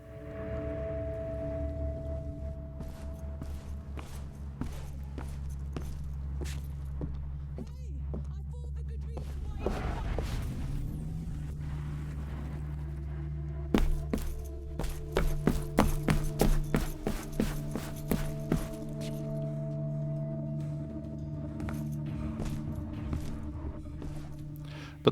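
Foley footstep sound effects from a sampled Foley instrument play as a run of sharp, rhythmic steps, sitting over a sustained tonal music bed.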